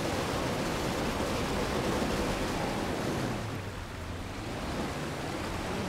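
Broad, rushing water noise from waves in the Forza Horizon 4 racing game roars steadily and loudly, then eases slightly toward the end, with no talking.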